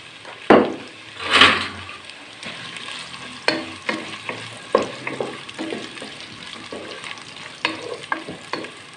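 Carrots frying in ghee in a large pot, a soft crackling sizzle broken by repeated scraping and knocking strokes of a stirring spoon against the metal, irregular and close.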